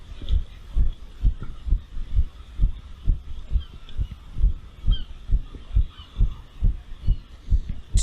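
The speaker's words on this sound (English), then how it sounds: "the heartbeat thing is really off-putting to me" A heartbeat sound effect from a watched video, a loud, close, steady lub-dub throb repeating quickly at an elevated pace, with no talking.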